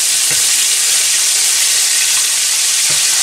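Grey snapper steaks fry loudly in hot oil, a dense continuous sizzle and hiss filling the clip, with a few soft knocks as oil is spooned over the tops and no talk.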